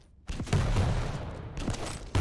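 Rocket and weapon fire during an AQL Division 1 arena shooter match, a loud burst of blasts and explosions that starts after a brief quiet, holds steady, dips briefly and then hits hard again at the end.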